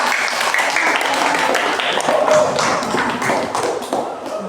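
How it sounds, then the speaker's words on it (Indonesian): Classroom applause for a student group in an Indonesian Islamic history lesson: a dense, steady patter of many hands clapping at once, loud and continuous throughout with no speech over it. "Tepuk tangan kelompok 4."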